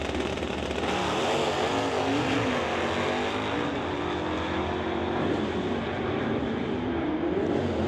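Drag racing cars, a white Buick and a 1967 Mustang, roar down a quarter-mile strip in a steady, loud engine drone with shifting pitch throughout.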